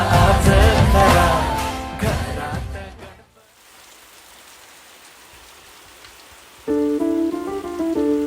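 Steady, soft Mumbai rain falling, heard alone in the middle after loud music cuts out, with music returning at the end.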